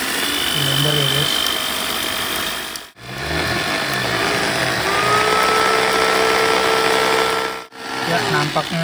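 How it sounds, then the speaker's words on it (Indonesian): A blender grinds dried neem leaves with a loud, whining motor roar. It cuts out briefly twice and then starts again, running at close range. "Langsung aja kita ambil daunnya, kita masukkan ke blender kayak gini."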